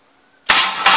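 A Ford Y-block V8 engine is cranked over, starting abruptly after silence with a loud, close, broadband churning burst that runs to the end.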